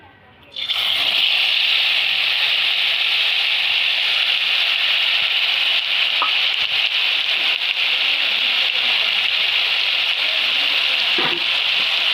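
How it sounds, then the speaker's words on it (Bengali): Spices hit hot oil left over from frying pumpkin bori and burst into a loud, continuous sizzle that starts abruptly after a brief quiet moment. It then roars on steadily and close up, with faint stirring scrapes and no talking. "এবার আমি ওই ভাজা তেলের ভিতরে মশলাটা"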